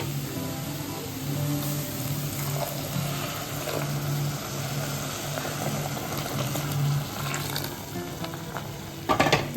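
Grated carrots cooking with milk in a pan for carrot halwa, a steady wet sizzle and bubbling that holds at an even level throughout, with faint stirring scrapes and a brief louder clatter at the end.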